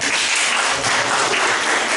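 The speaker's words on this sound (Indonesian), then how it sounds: "Tepuk tangan dulu." Dense, steady applause from a church congregation at a Sunday worship service fills the whole stretch, loud and continuous with no talking.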